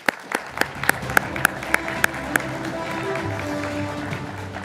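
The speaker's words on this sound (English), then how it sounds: "Please give him a clap." Applause from a conference panel audience at a space congress session in a theatre, a steady roar of many hands clapping with sharp regular claps standing out at the start, then settling into a dense even wash.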